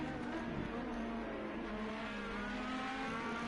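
IndyCar race car engines on the Nurburgring in the racing game Project CARS 2, a steady high-pitched whine held at speed, moderately quiet and continuous, with talk faintly present.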